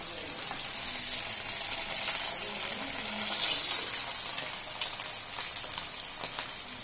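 Small potato balls fry in hot oil with a dense, steady sizzling hiss that swells slightly midway, with a few small crackles and pops near the end.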